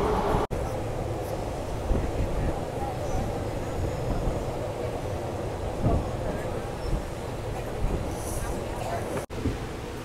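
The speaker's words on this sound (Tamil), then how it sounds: "இந்த நம்மளை லீட் பண்ணி கூட்டிகிட்டு போகிறது வேப் 1ங்க, சாதாரண லோக்கோ கிடையாது." A WAP-1 electric locomotive hauls an Intercity Express between Coimbatore and Madurai, heard from inside a coach as a steady, loud rumble of wheels and car noise with no clear pauses.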